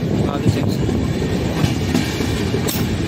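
Chetak Superfast Express train at a railway station platform in India, a loud steady rumble with clattering wagon noise throughout.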